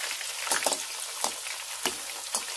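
Red and green chili peppers fry in hot oil, with a steady sizzle broken by several sharp pops and spatters spaced through the stretch.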